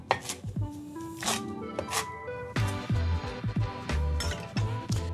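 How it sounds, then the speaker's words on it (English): A knife rough-chops kale on a cutting board in a cooking lesson, with quick repeated thuds against the board and a person speaking over the chopping. "now we're going to give this a real nice rough chop"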